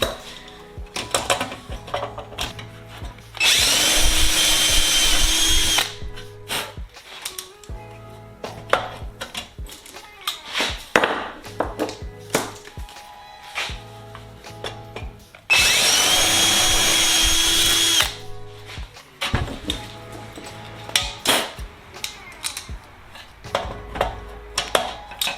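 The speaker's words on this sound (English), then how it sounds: "I'm just going to go ahead and drill up these holes to a number 30." Two loud, sustained bursts of power drilling holes in metal with a number 30 bit, each lasting a few seconds, separated by clinks and handling noises of tools being moved.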